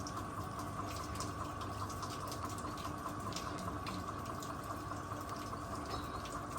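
Water runs steadily through the hopper of a render spray machine on a property being rendered, a continuous close rushing and gurgling with no breaks and no voices.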